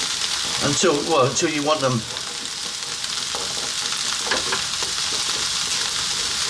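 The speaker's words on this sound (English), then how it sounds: "I'm going to drop just a little bit of oil in there and those 2 eggs." Two eggs fry in a little oil in a pan, giving a steady, fairly loud sizzle; someone talks over the first two seconds, then the hiss carries on alone.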